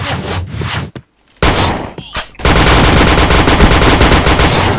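Rapid automatic gunfire from the first-person shooter Point Blank, loud and close, with a short burst, a sudden gap of near silence, then sustained rattling bursts and quick single shots filling the rest.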